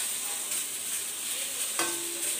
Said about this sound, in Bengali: দেখো এখন একটা ঢাকনা দিয়ে ঢেকে আমি কিন্তু কাঁকরোলটাকে ভালো করে ভেজে নেব